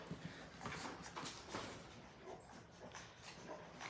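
Labrador Retriever puppies whimper and yip over a busy, fairly faint background. Scattered high cries and small barks overlap throughout.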